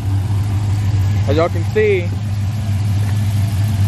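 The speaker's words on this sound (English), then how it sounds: "So we're gonna let it run for a little bit, you know, get that oil circulated around the engine" A car engine idles steadily after a fresh oil change on a newly installed cam, a constant low, even hum close by while someone speaks briefly over it.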